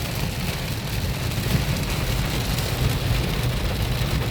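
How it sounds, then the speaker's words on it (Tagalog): Heavy rain pours down in a steady, dense roar, loud and close, with a faint low rumble beneath and no talk. "Lakas ng ulan."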